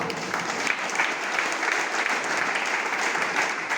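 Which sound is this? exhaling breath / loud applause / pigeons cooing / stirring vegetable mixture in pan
loud applause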